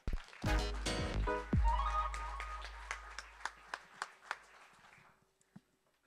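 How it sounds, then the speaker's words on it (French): Scattered handclaps from a lecture audience greeting a speaker introduced for a talk on hearing the shape of a drum, a few sharp, separate claps thinning out and fading after a low rumble at the start. "je vous demande de faire un tonnerre d'applaudissements pour"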